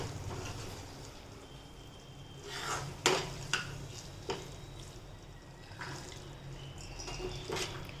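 Boiled green chickpeas are tipped into a pan of gravy and stirred, giving soft wet sloshing with a few distinct clinks of a spoon against the pan, close and moderately quiet, with no talking.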